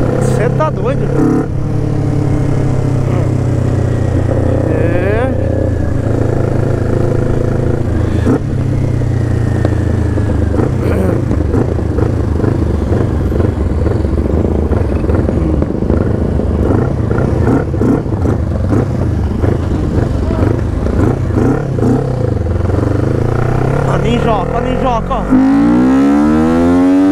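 A Kawasaki Ninja sport motorcycle engine rumbles and revs steadily throughout, rising and falling in pitch, with someone talking over it close by.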